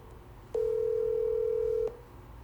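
A telephone line gives a single steady tone that lasts just over a second against faint background noise, with no voices.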